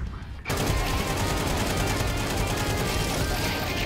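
Loud, sustained automatic gunfire from a Source 2 engine game sprays in a rapid, steady rhythm after a short lead-in, filling the whole stretch without pause.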